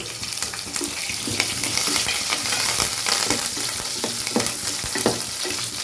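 Ground coconut paste and curry leaves sizzling loudly in hot oil in a pan for a fish curry, with continuous close frying crackle and stirring, no talk.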